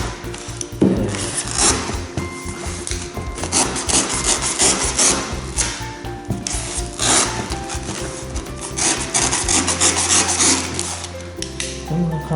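A blade is worked into cured expanding urethane foam, producing a continuous rough rasping and scraping with rhythmic sawing strokes, close up and steady throughout.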